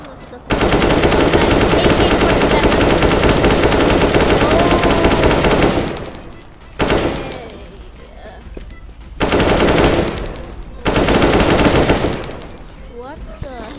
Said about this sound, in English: So let me use my hunting rifle.